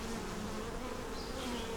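Bee buzzing near a beehive nuc, a continuous close droning hum with no voices.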